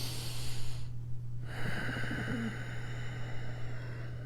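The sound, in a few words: nasal breathing exercise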